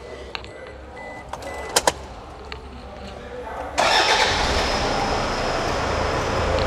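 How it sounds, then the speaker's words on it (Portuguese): A pickup truck with about 200,000 km on it is started. A few sharp clicks and a quiet voice come first, then the engine catches abruptly and settles into a loud, continuous idle roar. "Eu mesmo vou dar partida nela."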